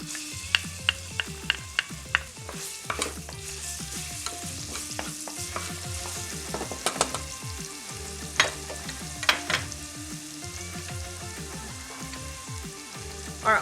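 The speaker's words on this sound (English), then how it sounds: "Going in with some oil, or garlic and ginger" Garlic and ginger frying in oil for a meatless Jamaican stew peas dish, a soft steady sizzle beneath irregular clinks and scrapes of utensils, close and quiet, with no talking.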